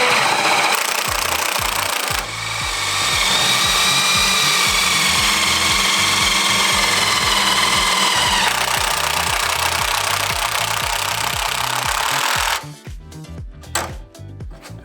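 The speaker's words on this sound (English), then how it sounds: "So we're gonna start drilling into it." A power drill whines loudly and steadily up close, drilling into furring strips during a bus conversion, its pitch rising as it bites in, then cuts off followed by a few handling clicks.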